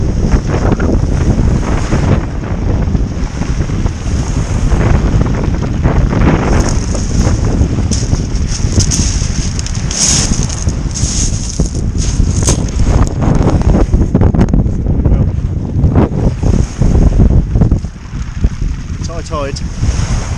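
Strong wind buffets the microphone on the shingle beach at Tide Mills during a plaice fishing session, a constant loud roar of rumbling gusts with surf washing underneath throughout.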